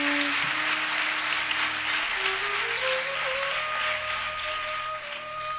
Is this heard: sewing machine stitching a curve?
no